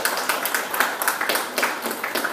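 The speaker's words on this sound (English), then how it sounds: "a small round of applause would never go in vain" Scattered, rhythmic hand claps make a small round of applause from a modest audience at a technical session on MongoDB, steady and fairly close with no talking over it.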